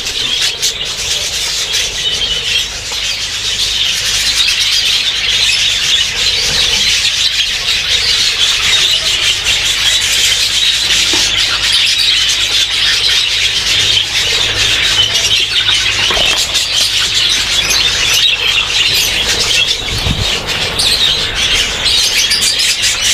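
Many birds and chicks in an aviary keep up a dense, continuous chorus of high chirps and squawks, loud and close, with occasional wing flaps.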